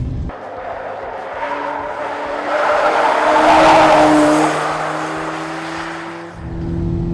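A Suzuki Liana race car engine in a video game drones and climbs in pitch, flat-shifting through gears with brief drops and surges, loud and continuous without speech.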